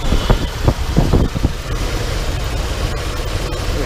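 A 1977 Ford LTD II with a 400 V8 engine idles nearby, a low steady rumble with a few sharp knocks and bumps early on before settling into an even drone.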